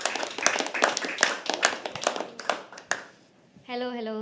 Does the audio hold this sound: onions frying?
no